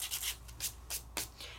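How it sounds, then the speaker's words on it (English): A paper stub is rubbed in short, faint, repeated strokes against a sanding block, a quiet scratchy rasp with brief pauses between passes. "I'm sharpening. This is a paper stub."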